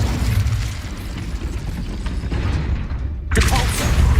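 Incendio fire spell cast in Hogwarts Legacy, a rumbling mechanical whoosh ending in a sudden bright burst near the end.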